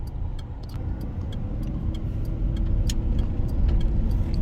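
A 2006 Ford F-150 pickup truck drives along with a steady low engine and road rumble throughout, with faint ticking and rattling above it and no talking.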